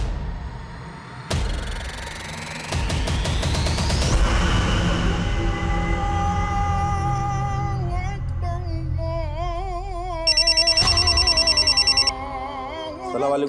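Telephone ringing in a Hindi crime TV drama: a short burst of rapid electronic ring pulses near the end, heard over a loud dramatic music score.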